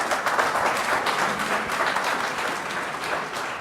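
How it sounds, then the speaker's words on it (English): Audience applause breaks out during a live debate on whether God exists, a steady dense wash of many hands clapping at moderate loudness that holds for a few seconds, slightly tapering toward the end. "I already know some people will clap anything."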